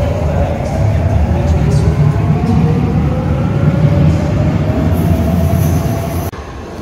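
A Naples metro train rumbles steadily at Garibaldi station, its low droning roar and rising whine of motors filling the space loudly and continuously before cutting off abruptly near the end.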